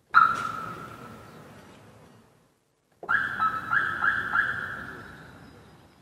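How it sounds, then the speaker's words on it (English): An electronic alarm tone sounds, cuts off into a brief silence, then returns with a steady tone and a few rapid repeating chirps. "So these are alarms"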